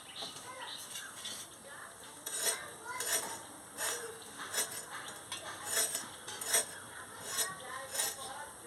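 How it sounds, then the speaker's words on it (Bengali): Knife chopping potato and snake gourd on a kitchen board, a steady run of close, crisp cuts and taps with soft clatter between strokes, no speech over it. "এবার আমি সবজিগুলো কেটে নিচ্ছি।"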